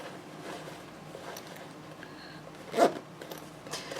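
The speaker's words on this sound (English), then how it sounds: "on this side you can close up the zipper just a little bit." A short, soft zipper pull closing a pouch rasps once near the end, faint against a quiet room hiss.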